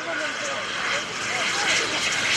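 An FLS Microjet airplane touching down at the 2015 Greenwood Lake airshow gives a steady, broad engine roar that holds throughout and grows slightly louder toward the end, with a commentator speaking over it.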